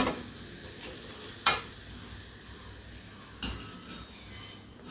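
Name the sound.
frying alu vadi (colocasia leaf rolls) in oil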